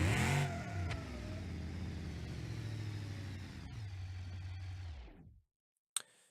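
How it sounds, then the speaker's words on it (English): A modified car called the Dominator roars through a drag run in the BeamNG.drive racing game, its engine note loud, steady and rising in pitch for about five seconds before cutting off abruptly, followed by a single brief click. "Car made a fast pass."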